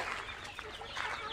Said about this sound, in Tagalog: mga free range na manok